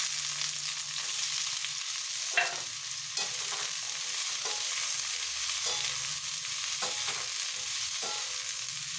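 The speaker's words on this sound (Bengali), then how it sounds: "ফুলকপিটা ভেজে নিচ্ছি" Cauliflower frying in a little oil, heard as a steady bright sizzle throughout. Intermittent scraping taps of stirring in the pan sound close and clear, with no voices.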